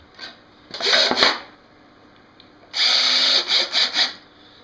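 Cordless drill drives screws into a wooden nesting box for meat rabbits, one short whirring burst and then a longer run ending in several quick pulses, loud and close with no speech.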